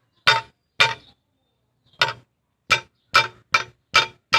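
A stone loose inside a motorcycle exhaust muffler gives off about eight sharp metallic clanks, each with a brief ring. They come in an uneven rhythm with short silent gaps, close and fairly loud, and no one speaks.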